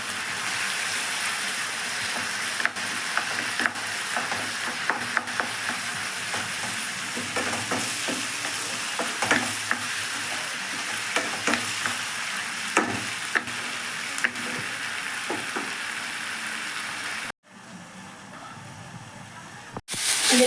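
Ginger-garlic paste fries in a pan with constant sizzling and repeated scraping strokes of a spoon stirring it, close and fairly loud, before the sound cuts to near quiet toward the end.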